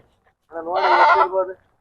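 A single goat bleats once at a sheep and goat market in Chitradurga, close and clear, a wavering call lasting about a second amid otherwise quiet surroundings.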